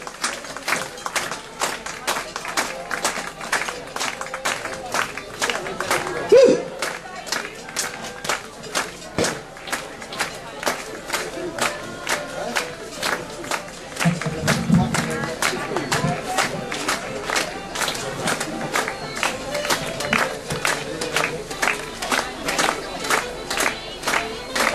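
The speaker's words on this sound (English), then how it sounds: "Come on, clap along, folks." A crowd at a St. Patrick's Day parade in Athy claps along in a steady, rhythmic beat that carries on for the whole stretch. Scattered voices and street noise sit underneath the clapping.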